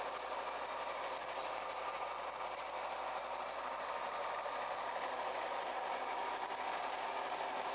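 A 1994 John Deere 670B motor grader's diesel engine idles after a cold start, giving a steady, even mechanical rumble and clatter heard close up and without talk.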